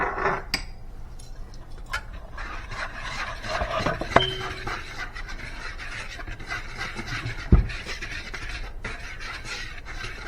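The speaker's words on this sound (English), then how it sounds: "And we're going to whisk all that together." Flour, baking powder, baking soda and salt are whisked together in a bowl for chocolate chip cookie dough: a steady scraping stir with a few sharp clinks against the bowl, and no talk.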